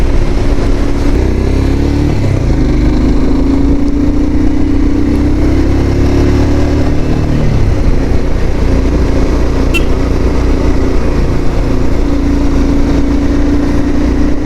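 A Royal Enfield Himalayan motorcycle engine drones steadily on a winding mountain road in Kashmir, recorded close and loud, with a low even thrum, a brief dip in revs and wind rushing over it throughout.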